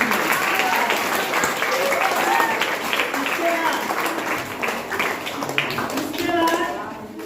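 Audience applause for a girl receiving an award at a ceremony, sustained clapping from a crowd with voices talking over it throughout.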